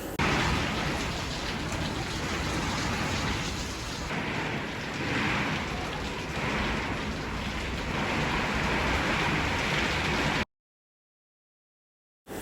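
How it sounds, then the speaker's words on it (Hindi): Heavy rain pours down steadily and loudly, a dense continuous wash of falling water with no voices, cutting off abruptly near the end. "जब हम लोग निकलने वाले थे तो एकदम से इतनी तेज़ बारिश स्टार्ट हो गई"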